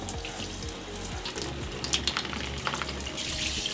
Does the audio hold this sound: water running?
yes